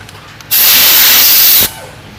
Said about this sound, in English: hook up the air hose, and man, this stuff just goes everywhere